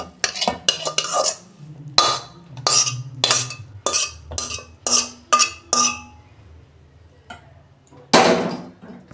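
A metal utensil scrapes and clinks against a pan as fried mixed vegetables are turned out of it, a series of sharp, irregular metallic knocks and scrapes, close and fairly loud.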